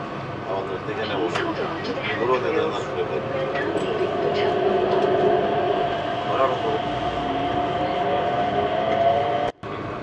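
An automated airport train gliding along inside a terminal, a steady rumbling hum with faint rail noise throughout, while a person talks over it and a brief drop-out comes near the end.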